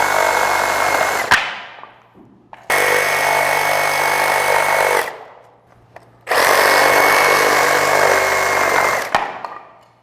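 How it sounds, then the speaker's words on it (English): A Sawzall reciprocating saw cuts lumber for a wrap-around staircase in a barndominium, sounding as three loud, harsh buzzing bursts of a few seconds each, with short quiet gaps between them. "making sure that your sawzall is as straight as possible, because the blade can move around a little bit"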